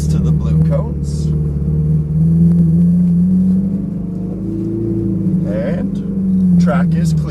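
A Ferrari 458 Italia idles and creeps forward onto a track under light throttle, its engine a steady low rumble close by, rising slightly and easing back, with a voice talking over it.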